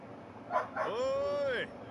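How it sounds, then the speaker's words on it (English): Dogs bark and whine in the background during a Persona 4 Golden game stream, a couple of short yips followed by a drawn-out howling whine, moderately distant. "there go the dogs in the background"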